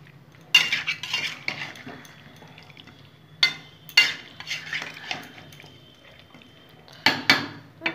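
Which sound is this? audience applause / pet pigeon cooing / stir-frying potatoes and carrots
stir-frying potatoes and carrots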